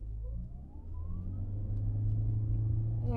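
Nissan Kicks e-POWER or Toyota Corolla Cross hybrid SUV floored from a stop up an incline in power drive mode, engine droning and rising steadily in pitch, loud and close from inside the cabin, no speech.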